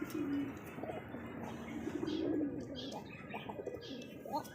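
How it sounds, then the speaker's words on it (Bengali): Male pigeon cooing, a series of low throaty coos repeating close by, with faint chirps in the background. "একদম ডাক দিছে কোকা কবুতরটা"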